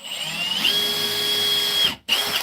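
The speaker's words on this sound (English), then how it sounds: "drill holes in the corners." Power drill boring holes in the corners of a Trex deck board, a steady high whine held close and loud for nearly two seconds, then a brief cutoff and restart.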